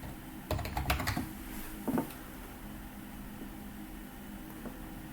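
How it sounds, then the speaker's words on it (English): A computer keyboard typed on in a quick, close flurry of keystrokes, then a few more taps, fading into quiet background hiss with no talking. "So I'll go ahead and type in LibreOffice."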